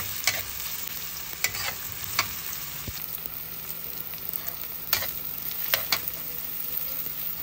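Onions stirred and sizzling in a hot pan while cooking banana heart in coconut milk, a steady quiet frying hiss broken by occasional sharp scrapes and clinks of the utensil.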